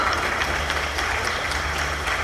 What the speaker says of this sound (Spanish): Brindamos un fuerte aplauso, por favor.